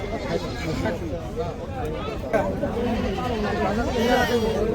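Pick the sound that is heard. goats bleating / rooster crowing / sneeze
goats bleating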